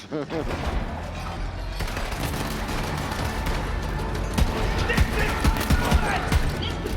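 Gunfire in the video game Borderlands 3, including revolver shots, as a loud dense barrage of shots and impacts over game sound, with people talking throughout.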